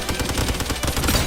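Rapid SMG fire in Roblox Weird Gun Game, a dense unbroken stream of close, punchy shots rattling steadily for about a second.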